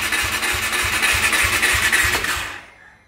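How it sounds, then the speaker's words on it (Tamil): A KTM 390 Adventure motorcycle with a weak battery cranks without catching, a fast rhythmic starter churn for about two and a half seconds before it stops and falls silent. "ஐயோ, வண்டி ஸ்டார்ட் ஆக மாட்டேங்குது."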